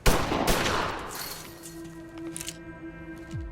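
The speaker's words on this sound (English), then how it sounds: "In the chaos, he is forced to shoot and kill one of the attackers." Gunfire erupts at the start of a violent gang attack in an action film, a loud dense burst of shots that quickly decays into a lingering ringing tone and softer scattered noises.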